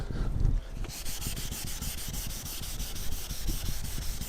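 Car body paint being wet- or hand-sanded with 800 grit sandpaper on a damaged salvage car, a steady rhythmic rasping of back-and-forth strokes, close and continuous after a brief thump at the start.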